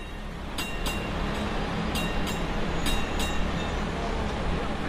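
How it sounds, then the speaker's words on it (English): A Hong Kong Island tram runs along the street, its steady low rumble under traffic noise, with a voice speaking over it and a few sharp repeated metallic clicks or dings at intervals. "But in Hong Kong Island, another old-fashioned public transportation still runs actively, which is Tram."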